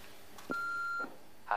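A phone sounds a single steady electronic beep signalling a new message, a clear tone lasting about half a second in a quiet room, with soft clicks just before and after it.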